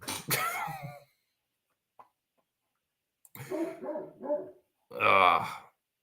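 A farm dog barks in several separate bursts: a sharp opening bark, a faint yip, then a gruff cluster of barks and a final loud, harsh bark, each close and clear against silence.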